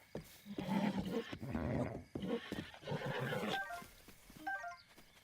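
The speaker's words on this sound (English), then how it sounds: "A nice strapping blue horse." A horse in the video game Zelda Breath of the Wild neighs loudly in several long, rough whinnying bursts. Snorts trail off at the end, and no one talks.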